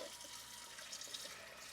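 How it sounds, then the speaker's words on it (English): Tap water runs steadily into a pot holding eggs, a soft continuous hiss and splash at fairly low level with no talking. "I'm going to fill this with water"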